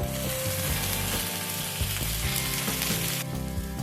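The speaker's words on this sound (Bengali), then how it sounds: "আদা রসুনটা ভেজে নেওয়া হয়ে গেলে এর মধ্যে একটা মিডিয়াম সাইজে টমেটো কুচি অ্যাড করে দিচ্ছি" Chopped medium tomato hitting hot oil with fried ginger and garlic, a loud dense crackling sizzle that fills the whole moment, with faint stirring underneath and no talk.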